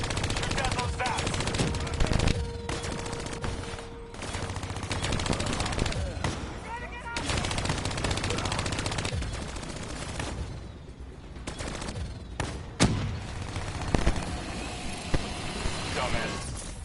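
Call of Duty 3 gunfire: rapid machine-gun bursts and scattered shots crackle loudly and almost continuously, with in-game voices speaking over parts of the firefight.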